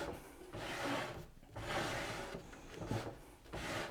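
A wooden dovetail drawer slides open and shut in several broad, rubbing wooden strokes with short pauses between them, close and fairly steady, with no voices.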